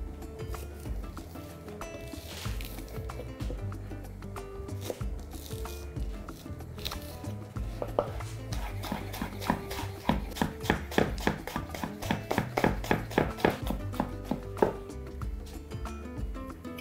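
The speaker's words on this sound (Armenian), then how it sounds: "Կվերցնեմ կանաչ սխտոր, ցողունի մի մասով, կտրում ենք, որքան հնարավոր է մանր։" Green garlic with part of its stems being finely chopped with a knife on a board, a fast run of sharp, regular taps that starts sparse and grows steady and rhythmic, close and fairly loud, with no talking.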